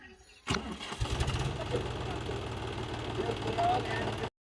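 A tractor engine cranks and catches, then settles into a rough, rhythmic diesel idle that chugs steadily up close, with someone talking over the running engine.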